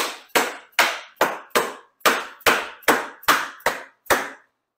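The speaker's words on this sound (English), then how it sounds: "I'm just going to tap it down." Ten sharp, evenly spaced taps knock windshield clips onto an E-Z-GO RXV golf cart frame, each a crisp close hit with a short ring, slowing slightly toward the end.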